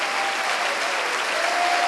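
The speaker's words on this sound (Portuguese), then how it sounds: "vamos dar uma grande salva de palmas para a palavra do Senhor Jesus" Church congregation breaking into sustained, dense applause during an evangelical sermon, steady and loud for the whole moment with no talk over it.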